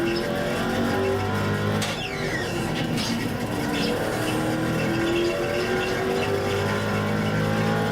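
A GTC race car in the iRacing sim pulls out of the pits on fresh tires and a full fuel load, its engine loud and steady as it climbs through rising gear pitches with a couple of sharp upshifts.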